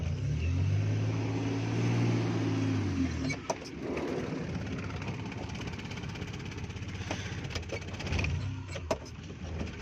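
A car engine runs steadily after a clutch cable repair, a continuous mid-level hum with a few sharp clicks and knocks scattered through it.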